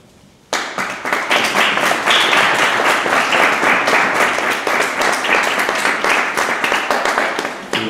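Audience applause at a piano competition concert, breaking out suddenly after a moment of quiet and holding as dense, steady clapping from a full hall without letting up.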